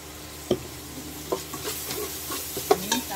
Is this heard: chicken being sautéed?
yes